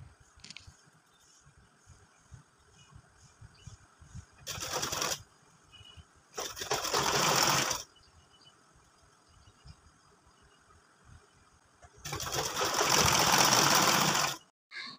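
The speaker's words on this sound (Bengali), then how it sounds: "এবার পাইপিনের কাপড়টা হাফ ইঞ্চি উপরের দিকে ভাঁজ করে এইভাবে সেলাই করে নিয়ে যাচ্ছি।" A sewing machine stitches folded piping fabric along a baby girl's frock, running in three loud bursts of rapid stitching separated by quiet pauses with faint background hum.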